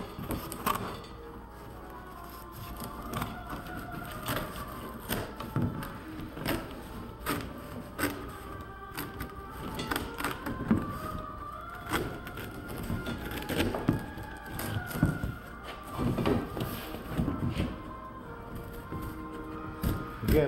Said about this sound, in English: I want to cut it out